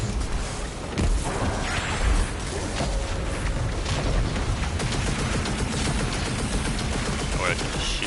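Gunfire in Destiny 2 rattles in rapid, continuous bursts with a few heavier crashes and booms mixed in, loud and close, a sustained barrage with no pauses.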